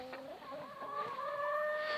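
Rooster and laying hens on a small poultry farm, clucking and calling in a steady, close run of overlapping tonal cries with no talk over them.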